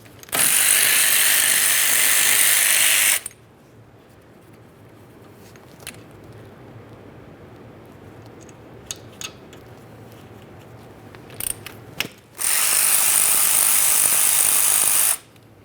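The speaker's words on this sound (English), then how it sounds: "To remove your 2 caliper slider mounting bolts, we'll be using a 12mm for these." Ratchet spinning out the 12mm caliper slider mounting bolts on a 2007-2013 Acura MDX rear brake, two long loud bursts of rapid clicking at the start and end with a quiet stretch and a few faint taps between.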